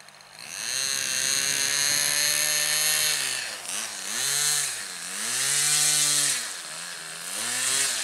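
A model airplane engine with its fuel mixture slightly off runs rough at a flying field, a loud buzzing drone that surges and sags in pitch several times as the throttle wavers, heard up close without talk.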